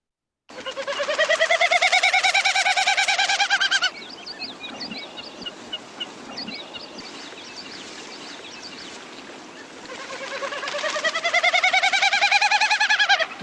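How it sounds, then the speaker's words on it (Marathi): Common snipe tail feathers giving a loud, rising, bleating whirr in two long bursts near the start and end, with a quieter rough fluttering stretch between them. "दुसरा जो कॉमन स्नाईप आहे त्याची शेपटीची पिसं हा आवाज करतात"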